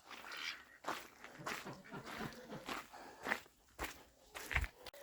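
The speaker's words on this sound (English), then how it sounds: "munching on some hay" An animal munches on hay up close, with irregular crunchy bites and rustles at a quiet level; no talk is heard.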